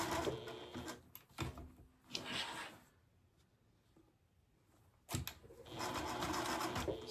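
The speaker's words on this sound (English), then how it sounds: "So now I'm just using a straight stitch, going in a circle to sew on this yo-yo." A sewing machine runs a straight stitch circling a fabric yo-yo onto flannel, whirring in short bursts, pausing through a quiet stretch, then resuming in a steady, fairly close run.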